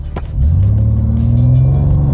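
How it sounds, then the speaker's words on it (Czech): A new BMW M2 launches into a burnout, its engine surging from a brief idle into a loud sustained roar with rising pitch and steady rumble, close and continuous to the end. "Burnout."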